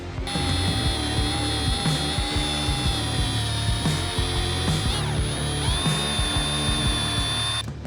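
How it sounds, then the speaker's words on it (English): A power drill whines steadily at high speed, grinding continuously through metal for several seconds while drilling a hole for a roof rack on a Chevy Silverado, with a brief dip in pitch midway. "Just be careful when you get close to going through that you don't push the drill bit all the way down."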